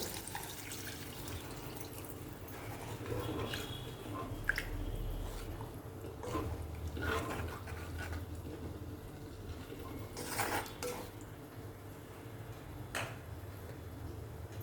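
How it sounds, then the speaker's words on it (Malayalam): Water poured into a pan of simmering Malayalam karal (spiny fish) curry, a steady wet trickle and splashing with dripping and squishy stirring sounds, close and moderately quiet, no voices. "നമുക്കിനി ആവശ്യത്തിന് വെള്ളം ഒഴിച്ചു കൊടുക്കാം."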